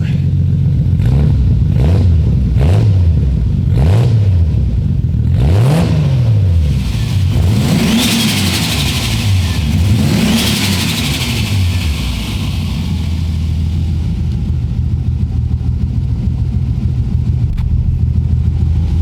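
A warmed-up Toyota 2JZ engine revs repeatedly, a series of sharp rising and falling blips close by, with a couple of longer pulls before settling to a steady idle; a voice is faintly present.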